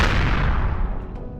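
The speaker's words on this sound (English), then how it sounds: "You're a little too quick for my artillery cannons" Heavy artillery cannons in the space survival game Empyrion Galactic Survival fire a loud, booming blast that rolls off into a decaying rumble, close and alone with no talking.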